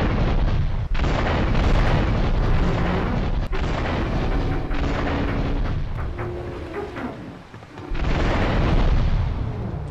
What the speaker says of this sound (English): we can watch another wonderful early 2000s renderware explosion